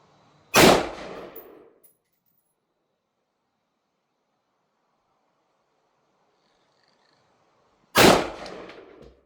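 Rifle gunshots fired while zeroing at a range, two sharp loud reports several seconds apart with silence between.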